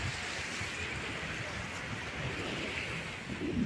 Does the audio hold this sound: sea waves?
yes